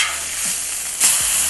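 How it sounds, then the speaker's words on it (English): Steady loud sizzle of a smash burger frying on a hot griddle, with a scraping clatter and a sharp flare of hiss about a second in as the patty is flipped. "we're getting ready to flip this one"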